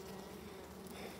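Honeybees at an opened hive, a faint steady hum of many wings droning close by for the whole moment, with no talk over it.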